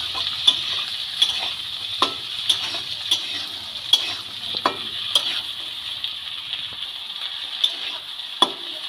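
Shelled peas tossed into a pan of frying winter vegetables for egg fried rice: a steady hiss of sizzling oil with sharp stirring clacks and scrapes at irregular intervals, close and clear, no voices.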